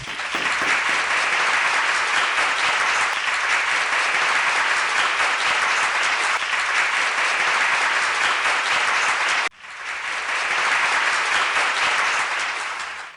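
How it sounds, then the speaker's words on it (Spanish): Sustained, loud applause from a studio audience welcoming an interview guest, a dense wash of clapping that breaks off briefly and then resumes before tailing away. "nosotros al señor José Vasconcelos Calderón, para quien pido un caluroso aplauso, por favor."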